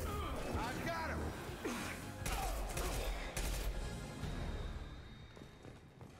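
Submachine gun fire in Mass Effect 2: several bursts of rapid rattling shots mixed with other combat effects, fairly loud over the game's background mix, with voices talking through it.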